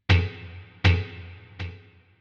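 Guitar delay set to slower 60 BPM repeats: a bright struck note ringing out, followed by two widely spaced echoes, the last noticeably quieter, with no voices.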